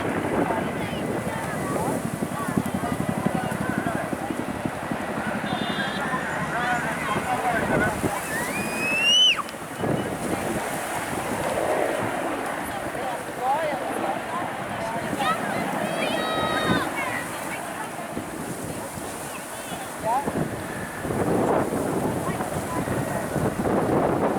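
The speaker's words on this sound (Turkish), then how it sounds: "Dediğim gibi çok kuvvetli rüzgar var." Strong wind during an evening wildfire in Datça buffets the microphone with a constant low roar, while voices talk intermittently over it and faint whistling tones come and go.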